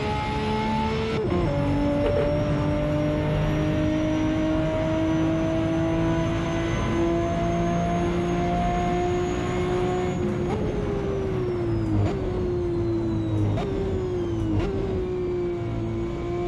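A Ferrari engine in the racing game Assetto Corsa holds a high, steady drone. The pitch slides up and down as the car shifts through its revs, with no talk over it.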